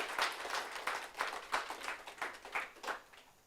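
An audience claps for award winners at a staff event, a quiet, fairly distant patter of several hands that swells and fades in uneven bursts.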